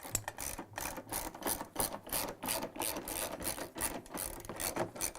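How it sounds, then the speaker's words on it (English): A 10mm socket wrench on a long extension ratchets steadily as it loosens the bolts around a washing machine tub, with rapid repeated pawl clicks in short bursts, close-up and alone. "Using the 10mm socket wrench with a long extension and some patience, remove all the bolts around the tub connection"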